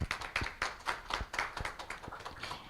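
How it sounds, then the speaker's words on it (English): An audience applauds at a press conference for the Open Government Partnership Asia and the Pacific regional event, a moderate burst of scattered hand clapping that thins out over a few seconds. "A round of applause for Mr. Paul Maassen."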